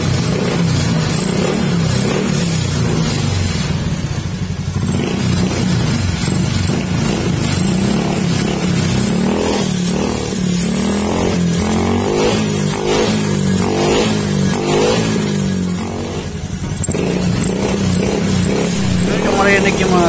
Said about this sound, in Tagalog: Marinig yung mga sir, palyado pa rin siya.